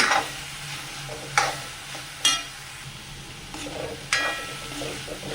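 Carrot and spinach stir-fry being stirred in a pan, a low sizzle running throughout with several distinct scraping strokes of the spoon against the pan.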